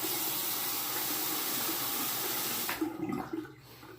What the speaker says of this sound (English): let me wet the razor now